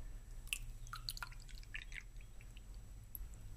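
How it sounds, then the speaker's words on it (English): Rainwater from an outdoor bucket is poured into a container, giving a few faint, scattered drips and splashes over a quiet background hum. "So next to put some rainwater in, and this is from a bucket that I put outside."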